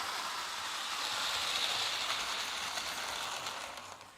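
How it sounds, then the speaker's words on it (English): A top-heavy model train locomotive runs along its track nearby, giving a steady mechanical whir and rattling gear chatter that swells slightly, then fades as it moves off. "It's kind of a top-heavy locomotive."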